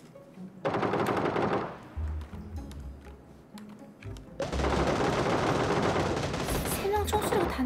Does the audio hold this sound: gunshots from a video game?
yes